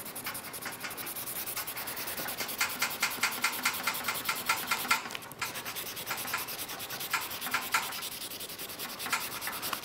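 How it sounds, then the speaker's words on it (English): A paper napkin rubbed over a paper ornament in steady back-and-forth strokes, giving a soft, dry, scratchy rasp that repeats rhythmically up close and alone. "You just start rubbing."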